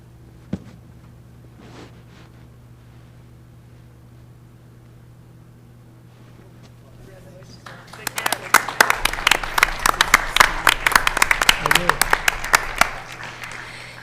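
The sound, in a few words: audience applause at a school board meeting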